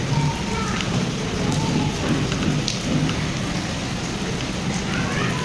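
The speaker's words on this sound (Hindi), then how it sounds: "बारिश अब काफ़ी तेज़ हो गई है। और देखो बारिश कितनी तेज़ हो गई अचानक" Heavy rain falls suddenly and pours steadily and densely for several seconds, a close, full wash of drops with no break.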